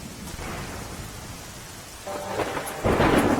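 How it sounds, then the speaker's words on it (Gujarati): Heavy rain pours down in Gujarat with a constant hiss, and thunder rumbles and builds toward the end, growing louder and closer. "ગામમાં ભારે વરસાદ બાદ વણસી પરિસ્થિતિ"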